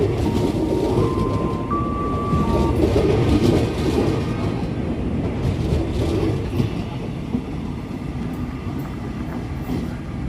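An Inka-built KRL electric commuter train rolls past close by, a loud continuous rumble of wheels and rail with a brief tonal whine early on, gradually easing in intensity.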